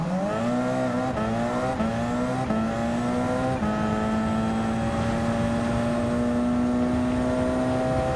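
A Gran Turismo 7 prototype race car from the WTC 900 class drones loudly and steadily at high revs, its engine note climbing gently through shifts with no pauses and no one talking.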